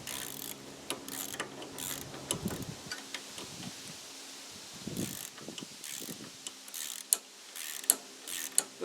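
A ratchet tightens the steering assembly of a Craftsman lawn tractor, with quick bursts of clicking and metallic taps heard close up in a quiet garage-like space.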